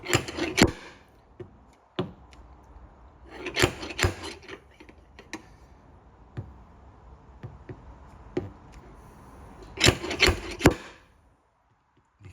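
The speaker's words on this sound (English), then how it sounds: "He welds it on, pulls the dent, and then you twist it to snap it off." Stud welder dent puller working on a damaged 2021 BMW M4 Competition body panel: irregular bursts of sharp snaps, scraping and metallic clunks separated by quieter gaps, close and fairly loud.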